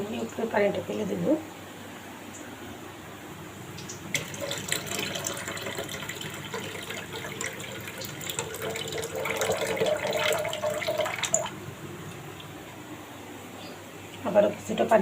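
Water is poured off soaked wheat in a home kitchen, a rushing splashing stream that swells in the middle and then tapers, with someone talking at the start and end.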